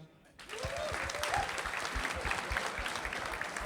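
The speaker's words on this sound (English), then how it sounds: "Small clap for them." A small crowd at a livestreamed charity gaming event claps, starting suddenly after a short quiet moment and holding as a steady, moderately loud patter, with a voice briefly audible over it.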